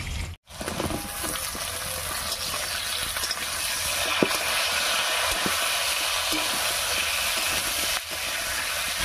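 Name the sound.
pointed gourd added to potatoes frying in pan, sizzling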